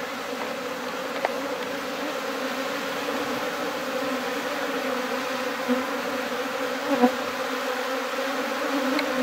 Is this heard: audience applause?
no